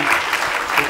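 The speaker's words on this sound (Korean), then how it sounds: "우리 박수로 큰 박수로 우리 성교사님 가정을" Brief burst of dense applause from a church chapel congregation, loud and continuous clapping.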